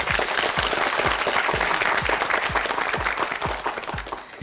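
Studio audience on the Korean TV quiz show Urimal Gyeorugi applauds loudly and steadily, dense clapping from a large crowd with a soft low thumping pulse beneath it, no talk over it.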